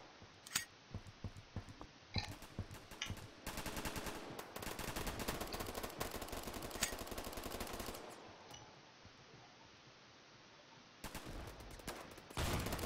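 Sniper rifle shots in the Roblox video game, a few sharp cracks early on followed by long stretches of dense, loud game noise and more sharp shots near the end, with no talking.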